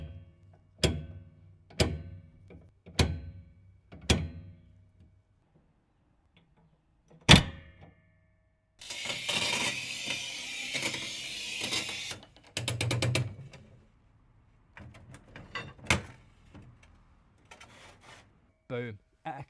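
A manual tile cutter sounds close by with a series of sharp mechanical clicks and ratchet snaps, then a few seconds of harsh scoring scrape, followed by more clicks and a crack as the tile breaks.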